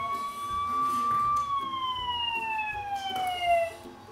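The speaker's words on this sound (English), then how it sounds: "So here's like a siren" A loud wailing siren from a Dash robot toy sweeps steadily downward in pitch, with a few faint clicks and low rumbles underneath.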